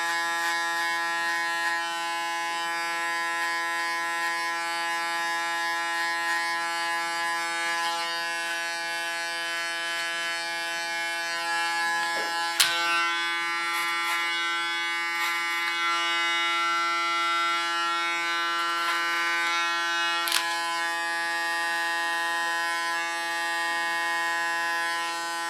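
An electric hair clipper hums in a steady, close, high-pitched drone while it shaves the center of a head, with a couple of brief clicks along the way and no talking.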